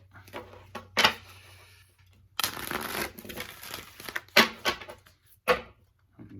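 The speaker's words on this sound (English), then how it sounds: "Shuffle them up." A deck of tarot cards is shuffled by hand, crisp riffling and papery rustles coming in uneven bursts with short quiet gaps between, close and clear with no voices.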